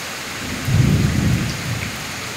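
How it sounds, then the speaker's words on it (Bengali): Heavy rain pours down at midday, a steady hiss, while a deep roll of thunder swells and rumbles for about a second before fading back under the downpour. "ফাটিয়ে বৃষ্টি নেমেছে।"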